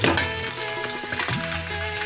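Potatoes frying in hot oil in a wok just after fish, a loud continuous sizzle with scraping stirring strokes close up and no talk.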